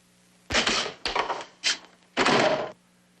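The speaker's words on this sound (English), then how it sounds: "Wiggin, shut the door." A door being shut in a 1971 US Treasury moonshine drama: a series of four loud, close wooden thumps and rattles, the last one longer and heavier, with no talk over them.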